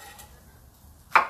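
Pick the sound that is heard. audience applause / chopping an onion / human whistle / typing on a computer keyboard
chopping an onion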